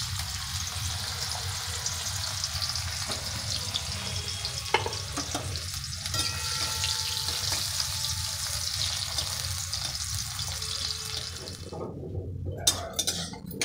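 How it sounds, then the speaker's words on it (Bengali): Slices of green plantain fry in a pan with a continuous close sizzle and bubbling, occasional stirring clatter, and the sizzle dropping away near the end. "এরপর আমি ভেজে নিচ্ছি কাঁচকলা।"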